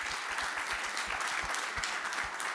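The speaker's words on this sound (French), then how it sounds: "On peut vous applaudir." An audience at a forum of innovation pitches applauds right after a pitch, a dense burst of clapping with individual claps audible throughout, sustained at a steady level.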